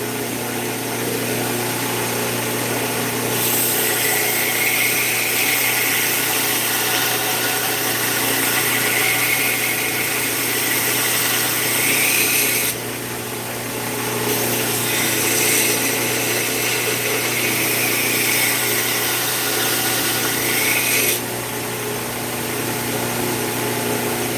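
A belt grinder runs steady and loud while grinding the edge of a handmade knife with a concave grind. Its tone shifts briefly a few times as the blade is pressed and lifted, with no talking.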